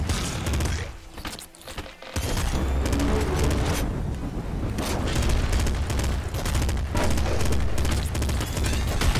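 Rocket explosions and gunfire from the video game Nuclear Throne form a dense, continuous barrage of booms and blasts, with a brief thinner patch early on before the onslaught resumes loudly.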